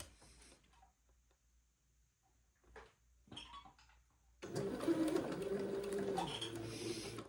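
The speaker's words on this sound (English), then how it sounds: "I'm going to sew the piping" Sewing machine stitching piping to a tab, a quiet stop-start patter at first, then a louder continuous whirring run of stitches for the last few seconds.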